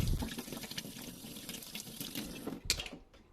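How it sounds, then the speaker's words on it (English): A makeup brush is rinsed under warm running water, a close, steady splashing stream from a tap that fades away near the end, followed by a short burst of water sound. "Warm water, and just really rinse that off."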